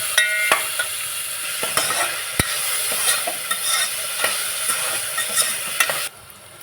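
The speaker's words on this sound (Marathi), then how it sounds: "तेल टाकून घेतलं आपण. कांदा टाकून घेतला आपण." Onion frying in oil in a pan, a steady hiss of sizzling with repeated scraping clicks of a spatula stirring, close and unaccompanied by speech, ending abruptly.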